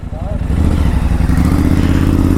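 A Royal Enfield Interceptor 650 is restarted with the clutch held in on a mountain road trip between Joshimath and Badrinath. It cranks briefly, then catches into a loud, close, steady thumping idle.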